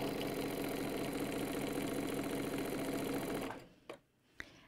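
A sewing machine stitches steadily in a rapid, even whir while doing free-motion echo quilting on a quilt, then stops abruptly near the end, leaving only a couple of faint clicks.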